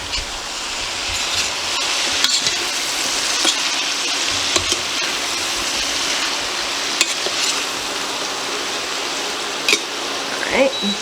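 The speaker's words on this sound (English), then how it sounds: "We're going to saute these until they're soft." Vegetables sautéing in butter or bacon fat, a steady soft sizzle with occasional stirring clicks, continuous and fairly close.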